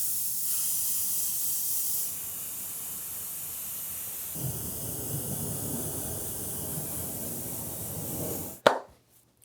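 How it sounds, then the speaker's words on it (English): An aerosol can of Aqua Gloss clear coat sprays onto a painted lightsaber hilt in a steady, close hissing stream lasting several seconds, cutting off with a short clunk at the end. "Now we got to protect it with a little clear coat."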